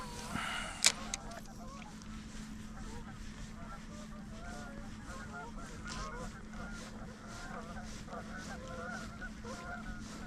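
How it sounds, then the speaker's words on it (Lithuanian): Geese honk near water at a fishing spot, faint repeated calls carrying from a distance over a low ambient hum, with a brief clatter near the start. "Žąsis dar neišskrido."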